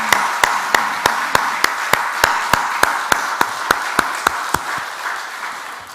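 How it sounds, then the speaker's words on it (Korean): A church congregation at an early-morning service claps in a steady, even rhythm, the beats sharp and regular over a dense wash of many hands, fading out toward the end. "우리 큰 박수 한번 합시다"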